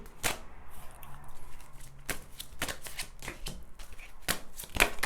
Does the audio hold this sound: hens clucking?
no